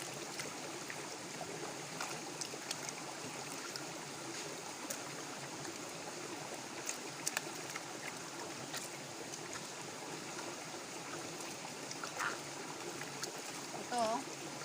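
Clear mountain stream water running beside a riverside cooking spot as food is washed, a steady close babble and trickle with faint splashes, and a voice talking over it.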